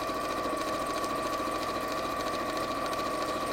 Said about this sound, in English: I'm just sewing together one of the red poppy with one of the sandy coloured poppies.